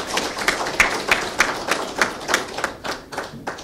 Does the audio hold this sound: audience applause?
yes